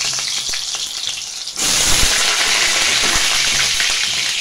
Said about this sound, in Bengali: এটাকে ভালো করে আমি ফ্রাই করে নেব।